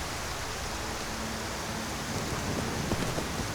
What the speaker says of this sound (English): it's still raining through here